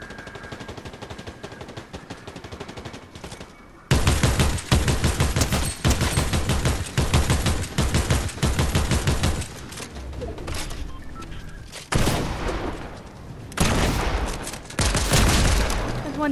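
Dense video game battle gunfire rattles in rapid bursts, loud and nearly continuous, with automatic weapons firing in long volleys and brief lulls between them.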